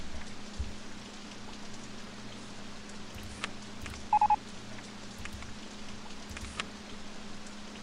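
Rain in the theme-park game OpenRCT2, a soft continuous hiss of falling rain under a low steady hum, with a short burst of beeping tones in the middle.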